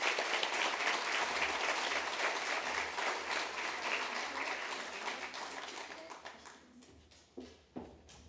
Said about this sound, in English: we're very good with the wild applause today